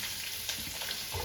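Chopped onions frying in coconut oil for biryani give a short burst of dense, close sizzling with a faint stir, and no voices.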